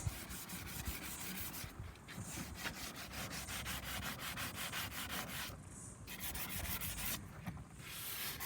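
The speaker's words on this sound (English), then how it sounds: "So now we're just sanding off the dash of the car." Steady, rapid back-and-forth sanding on a wooden Rover P4 dashboard, continuous and fairly quiet, with no voices.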